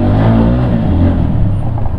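A vehicle engine revs hard and close in a narrow street, a loud, continuous throaty roar with no speech over it.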